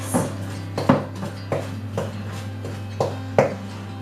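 Butter and sugar for shortbread worked together by hand in a bowl, giving a steady series of about nine soft scraping, knocking strokes close by over a constant low hum, with no voices.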